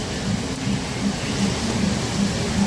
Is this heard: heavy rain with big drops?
yes